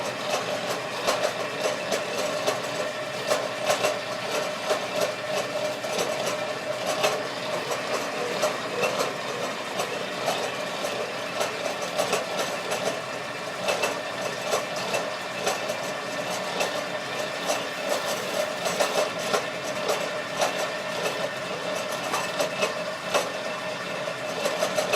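A bandsaw runs steadily through wooden table legs, a dense continuous whine and rasp of blade on wood holding at a constant level for the whole stretch, close and with no talk.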